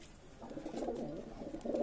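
A running pair of Salara Teddy pigeons coo softly in low, throaty, repeated calls, faint and close, with no one speaking.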